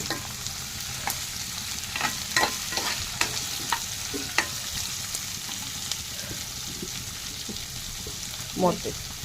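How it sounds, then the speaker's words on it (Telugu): Onion and green chilli frying in a tempered pan for a curry, a continuous close sizzle with repeated scraping stirs and clinks of a spatula against the pan. "ఈ కూరకే పోపు పెట్టిన తర్వాత ఉల్లిపాయ పచ్చిమిరపకాయ యాగనిచ్చి"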